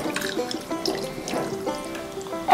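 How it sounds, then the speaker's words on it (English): Water runs from a tap for hand washing, splashing and trickling in uneven bursts for a couple of seconds, close and moderately loud with small clinks around it. "I want to wash my hands first, put some water."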